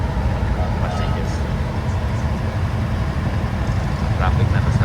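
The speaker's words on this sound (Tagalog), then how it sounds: "Traffic na to sa ganitong oras." Dense city street traffic in Davao City, Philippines, near a former shopping mall, with cars, buses and passengers: a steady, loud low rumble of engines throughout, with faint voices in the background.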